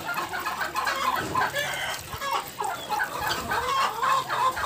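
Chickens on a farm yard cluck and murmur steadily at close range, with overlapping soft calls throughout and no talk.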